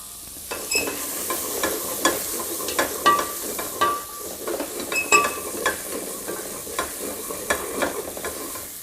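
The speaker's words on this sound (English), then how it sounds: "And celery and carrot go in." Celery and carrot sizzle in a pan for a Thai pumpkin and coconut curry, a fairly loud frying hiss broken by repeated sharp scrapes and clinks of stirring, with no talking.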